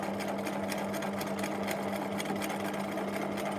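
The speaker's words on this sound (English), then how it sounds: "So I'm going to sew the elastic in on this end" A sewing machine stitches elastic into garment fabric, its motor whirring loud, close and steady with a rapid regular needle rhythm and no talk.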